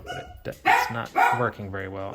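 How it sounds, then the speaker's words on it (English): Several dogs bark in the background at home, loud enough to cut through a person who keeps talking close to the microphone throughout. "I apologize for my darn dogs barking in the background"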